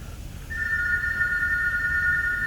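A telephone rings with a steady, continuous electronic tone that starts a moment in and holds unbroken over a low background hum.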